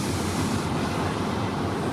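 Freight trains rumble past continuously at a rail junction on a cold morning, with a CN train meeting two container trains; the steady, loud, broadband roar of the moving cars fills the whole stretch without pause.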